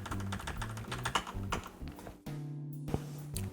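Fingers type rapidly on a computer keyboard while entering code, a close run of quick, uneven clicking keystrokes with a brief pause and a few isolated taps at the end, no voices.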